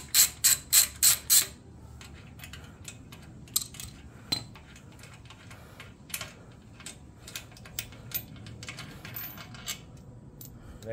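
A 6 mm hex tool works loose the last bolt holding the catalytic converter on a 2022 Yamaha MT-10 exhaust: five quick, loud ratcheting clicks open the sequence, then scattered lighter metallic clicks and taps follow.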